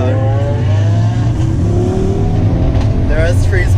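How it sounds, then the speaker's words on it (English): Convoy of sports cars, including an Audi RS3, S3, Lamborghini and GT3, driving on a highway, with loud close engines droning and rising in pitch, gear changes sweeping upward, plus rushing road and wind noise. "The S3 is making a lot of noise too."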